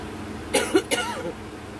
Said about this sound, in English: I'm coughing from a grape.